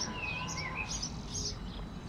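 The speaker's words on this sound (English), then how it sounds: "Lots of birds, if you can hear them." Many small birds chirp and twitter in a garden hedge on a sunny day, their bright, overlapping calls moderately loud over a steady low rumble.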